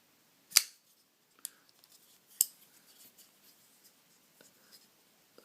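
A Kershaw Skyline pocket knife flicked open and snapping into its lock, giving a few sharp, close metallic clicks spaced apart, with faint handling noise between them.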